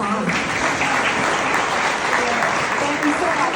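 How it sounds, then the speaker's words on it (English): Dense, loud audience applause at a Boston charity gala, a steady wash of many hands clapping without a break, with voices mixed in beneath it. "Another round of applause for Dr. Hassan."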